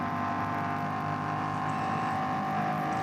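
Engine of a BMW race car lapping the Nurburgring during an NLS endurance race, a loud, steady, dense high-revving drone held flat throughout with no breaks.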